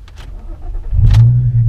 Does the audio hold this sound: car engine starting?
yes